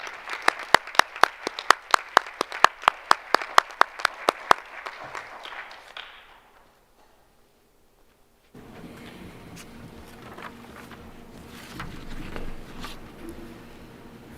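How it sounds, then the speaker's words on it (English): Audience applause at a school board of education meeting in a hall, a burst of fairly close claps that fades out, followed by quiet room murmur and shuffling. "A round of applause, please,"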